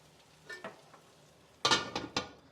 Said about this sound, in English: I'm going to drizzle the dish with a little bit of olive oil.